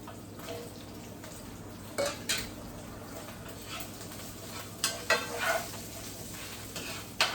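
Carrots frying and being stirred in a hot pan, with a steady close sizzle underneath and several sharp scraping, clattering strokes of a utensil against the pan.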